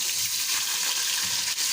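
Small batch of rice grains frying in a pan until golden, a dense steady sizzle with faint stirring throughout, close and fairly loud, with no talk.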